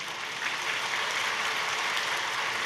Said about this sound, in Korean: 박수는 좀 이따가 해줘야 되겠어요